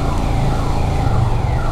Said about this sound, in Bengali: আর অ্যাম্বুলেন্সের সহযোগিতা নিয়ে আমরাও পেরিয়ে যাচ্ছি।